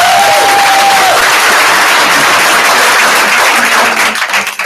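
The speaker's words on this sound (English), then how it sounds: "Give him a round of applause." Audience applause at a company sales meeting, a loud, steady wash of clapping that fills the whole stretch and thins slightly toward the end.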